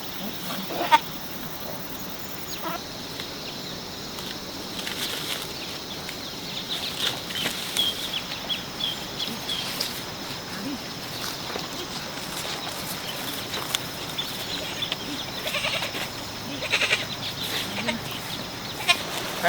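A goat being led along on foot to be sold at a village market bleats faintly now and then amid steady outdoor rustle, with no talk.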